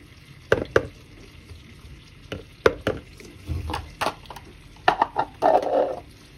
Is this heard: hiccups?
no